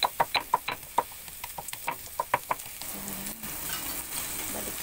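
Garlic frying in a pan for a Filipino fish dish, with a series of sharp scraping stirs of a utensil over a soft sizzle, then quieter crackling.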